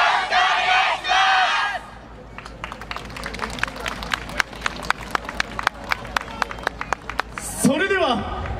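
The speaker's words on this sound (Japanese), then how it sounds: "ご声援手拍子よろしくお願いします" A crowd at a yosakoi dance performance cheers in a loud roar, then sharp rhythmic clapping takes over with some scattered percussive hits, and a rising swell closes the stretch.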